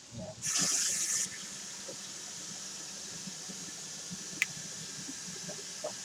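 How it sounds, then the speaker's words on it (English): A kitchen water tap is turned on while cooking broccoli and spaghetti. It gives a brief, close rushing gush, then a fainter steady hiss of running water. "now what I'm going to do is I'm going to turn on the water"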